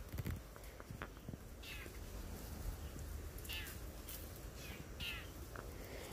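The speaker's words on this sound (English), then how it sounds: "There's a whole orchestra of bird voices for us. I hear a hawk." Scattered bird calls in an outdoor chorus that includes a hawk, heard during berry picking: a few brief, distant cries and chirps rise over a faint, steady background hush.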